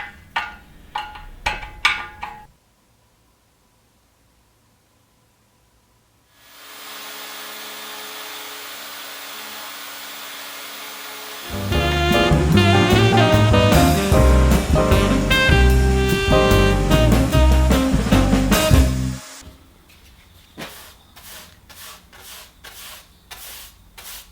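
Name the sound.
router machining wooden table rails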